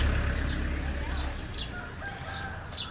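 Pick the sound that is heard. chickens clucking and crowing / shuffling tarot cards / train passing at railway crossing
chickens clucking and crowing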